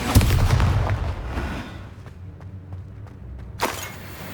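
The Expelliarmus disarming spell cast in Hogwarts Legacy: a sharp, forceful burst at the start that fades into a low rumble, then a second crisp blast near the end.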